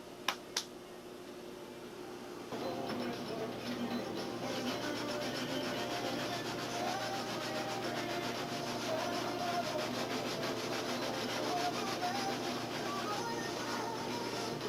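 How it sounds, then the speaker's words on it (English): Sandpaper rubs back and forth over a plexiglass canopy and balsa wood on a model airplane, a steady close scratchy hiss after a couple of light knocks at the start. "you have to actually sand the plexiglass to match the balsa wood"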